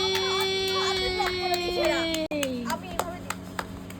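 During a rooftop gathering at night, a group claps after a recitation of a Gitanjali poem. Halfway through, a voice gives way to a run of scattered, fairly close hand claps.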